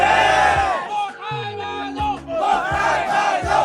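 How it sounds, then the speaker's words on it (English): A group in the Vietnamese mountains chants and cheers together before drinking, a loud rhythmic crowd shout with rising whoops, all voices close and energetic. "every time you drink, there is this chant, Mo Tha Ba Zo, like a group cheer"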